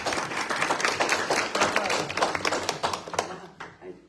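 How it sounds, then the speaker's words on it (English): An audience at a Republican Senate candidate forum claps with a moderately close, uneven patter of applause that thins and fades out near the end. "I don't usually get applause."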